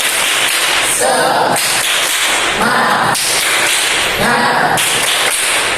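An Indonesian class 8A performs a rhythmic spirit clap together in a classroom: loud, crisp bursts of group clapping in a repeating pattern, mixed with chanting voices.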